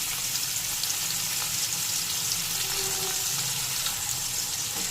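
Chopped onion and tomato with white cumin seeds frying in oil for a bhindi do pyaza, a steady broad sizzle running evenly throughout with no talk over it.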